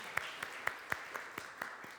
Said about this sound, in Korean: 우리 환영의 박수를 우리 드립시다